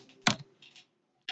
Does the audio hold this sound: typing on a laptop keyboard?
yes